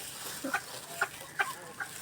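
Pet chickens cluck while being fed, giving four soft, evenly spaced clucks against a steady background hiss, close by but fairly quiet.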